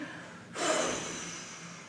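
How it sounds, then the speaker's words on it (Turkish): A single breath drawn in through the nose and pushed out through the mouth during a children's yoga exercise, a soft, breathy whoosh lasting about a second, close and alone. "Burundan nefes al, ağızdan püskür"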